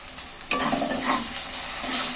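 A sudden loud sizzle bursts in after a quiet moment, then keeps crackling steadily as tomato masala fries in hot oil, with light stirring.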